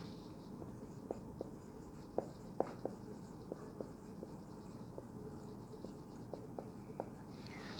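Chalk or marker writing on a board during an accounting lecture, faint irregular taps and short strokes scattered across a quiet room with a steady background hum, no voice over them.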